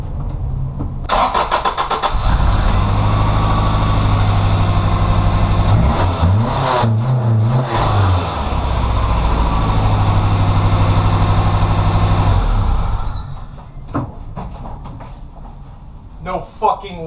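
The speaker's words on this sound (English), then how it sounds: "I got the car to start. Started and then it died." A long-unfinished project car cranks and catches, then its engine runs at a loud, rough, steady idle for several seconds before sputtering out and dying, leaving quiet with a few scattered clunks.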